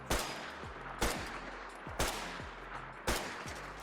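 A Swedish K submachine gun in a Fallout 4 mod fires four separate single shots at targets, each a sharp loud crack followed by a short decaying echo, spaced about a second apart.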